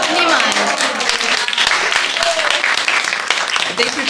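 An audience applauds performers at a devotional creativity retreat with a swami in Simhachala, a dense, loud burst of clapping that mixes with voices throughout.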